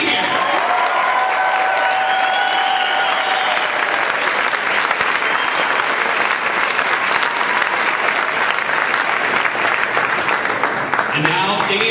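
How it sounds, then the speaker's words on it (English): Crowd applause at a roller derby event, dense sustained clapping and cheering filling the whole stretch at steady loudness, with a voice heard faintly over it at the start and end. "So let's have one big round of applause for Joan Joel, who can't be here."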